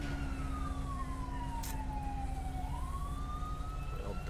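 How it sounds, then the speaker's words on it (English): An ambulance siren wails as the vehicle arrives on scene in the video game GTA 5, a steady falling then rising tone over a constant low engine rumble, fairly close and continuous. "ambulance rolls on scene."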